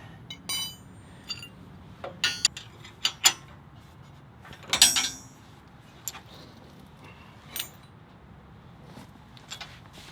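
Metallic clinks and ratcheting clicks from a wrench tightening a bolt on a Jeep Wrangler JK rear coil spring retainer, in scattered short bursts with quiet gaps between them.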